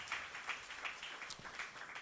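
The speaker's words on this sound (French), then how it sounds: "Applaudissons Jésus." Congregation in a church clapping together in a steady patter, fairly quiet and diffuse, with no talk over it.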